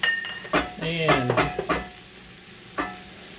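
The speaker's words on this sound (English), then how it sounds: "Gonna let it deglaze and just cook down just a little" Pan sauce deglazing and cooking down in a cast iron pan after baked chicken: a soft sizzle with a few brief scraping stirs and clinks early on, then a quieter simmer and one last scrape.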